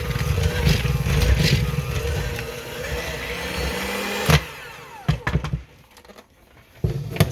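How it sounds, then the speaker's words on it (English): An electric mixer whirs through thick biscotti dough as the last flour is worked in. The loud, steady motor drone cuts off abruptly partway through, followed by a few clattering knocks and quieter handling sounds. "It's time to set our blender to the side."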